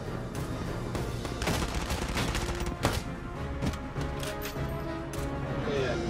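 Opportunity fire in Valkyria Chronicles 4, a stretch of rapid, overlapping gunshots and impacts over a busy, continuous battle din, with a sharper crack standing out near the middle.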